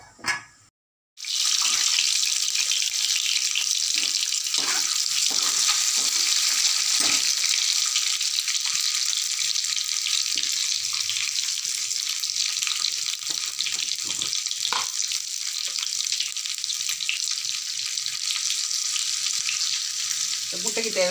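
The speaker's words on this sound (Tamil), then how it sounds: "உப்பு போட்டு நல்லா வறுத்து எடுத்துக்கணும்." Eggs fry in a pan with chili powder, turmeric and salt, giving a loud, continuous sizzle after an opening clatter. Occasional stirring scrapes and pops sound over it, with no voices.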